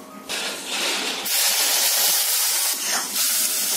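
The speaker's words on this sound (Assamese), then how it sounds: "ইয়াতে অকণমান পানী যোগ কৰিম" Water splashes onto a hot frying mango mixture in a pan, setting off a loud, sustained steamy hiss that flares up near and steady for a few seconds.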